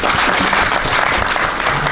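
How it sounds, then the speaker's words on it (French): Audience applause at a health and environment panel event. Loud, dense clapping from a crowd is heard close and continuous for about two seconds, with no speech over it. "Si on peut applaudir pour eux."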